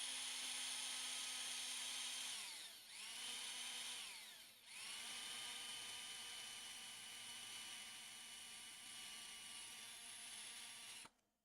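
A high-pitched electric screw gun whines steadily for about eleven seconds, dipping briefly twice as the trigger eases, then cuts off sharply.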